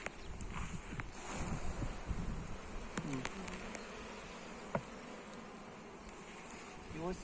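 Honeybees buzz steadily close by at an apiary hive with drones present, a dense droning hum with a few sharp clicks, and a person speaks briefly.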